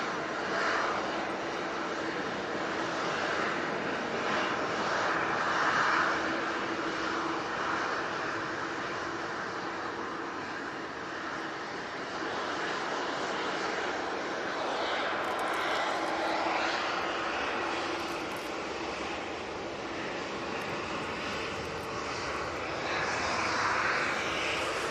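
EasyJet airliner engines roar during a go-around, a steady broad distant jet rumble sustained throughout with no talk.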